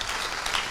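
Audience clapping at a conference, a dense, steady wash of many hands at close range, sustained evenly through the brief moment without any talk.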